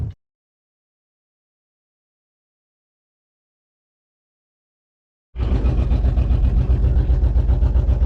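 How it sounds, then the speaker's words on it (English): Engine with its muffler fallen off, quiet at first, then a loud, close, raw exhaust drone with a rapid pulsing beat that starts abruptly and keeps running. "My freaking muffler fell off."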